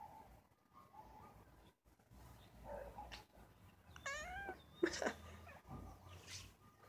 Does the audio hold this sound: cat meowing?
yes